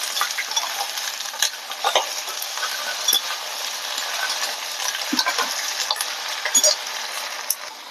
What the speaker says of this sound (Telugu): పచ్చిమిర్చి, పుదీనా, కొత్తిమీర వేసి కొంచెం లైట్గా గోలివ్వాలండి.